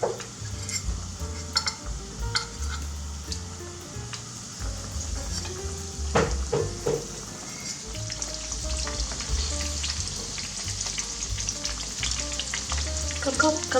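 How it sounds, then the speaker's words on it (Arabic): Merlan (whiting) fish frying in moderately hot oil, a steady close crackling sizzle with dense spitting pops that holds throughout with no talk. "دابا غادي ندوز باش نقليهم"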